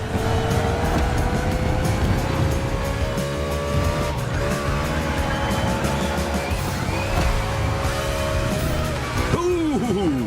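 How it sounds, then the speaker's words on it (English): NASCAR race cars in The Crew Motorfest, a loud continuous engine drone with rising and falling pitch as cars pass, tire squeals near the end, under a commentator's talk. "Benson's car is returning to the race after a quick stop."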